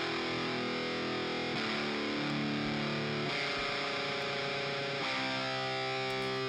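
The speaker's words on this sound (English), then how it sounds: "that was more of a standard kind of high gain rhythm tone" Distorted electric guitar plays chunky rhythm chords with a saturated high-gain tone, changing chords every couple of seconds, steady and alone.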